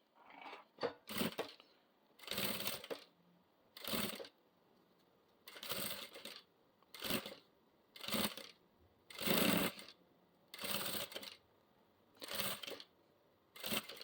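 Sewing machine stitching a half-moon fabric pouch, running in roughly ten short bursts of a second or so each, separated by brief pauses, at moderate level with no talk.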